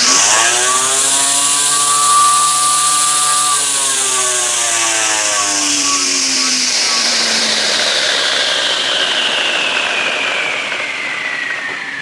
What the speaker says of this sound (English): So you can see how long it runs and winds down because it's not hitting weeds at this point